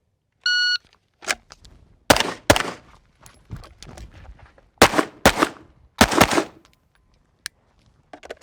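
Gunshots at a 3-gun training day, fired at a head box target: a start beep, then a series of sharp, loud shots in irregular pairs and singles, with brief gaps between bursts and a lone final shot.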